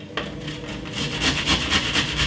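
Garlic is grated by hand in a kitchen, heard as quick, rhythmic rasping strokes that start after a single sharp tap and grow louder and more regular.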